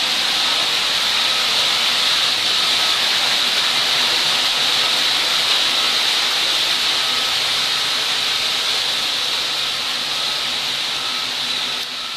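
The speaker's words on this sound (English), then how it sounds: "We're going to walk under the waterfall now." Indoor waterfall in a tropical zoo exhibit, a steady, loud, broadband rush of falling water heard up close and continuous throughout, with no talking.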